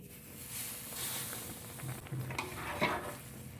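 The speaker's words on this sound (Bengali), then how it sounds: "দুধটা ফুটে গেছে এবার আমি ভেজে রাখা সুজিটা দিয়ে দিচ্ছি" Fried semolina is stirred into just-boiled milk in a pot for jaggery sandesh, giving soft, quiet scraping and faint bubbling that rise and fall with each pass of the spoon.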